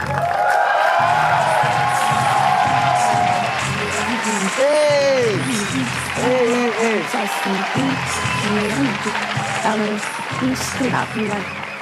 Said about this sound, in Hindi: प्लीज और जोरदार तालियों से स्वागत किया जाए